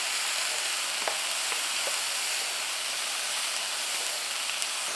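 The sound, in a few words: frying onion, green onion and cabbage for jjajang sauce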